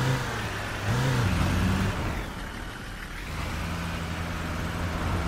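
Tour bus engine in a driving simulator game, a steady low drone with shifting tones as the vehicle gets back underway, a brief rise then easing, continuous and fairly close.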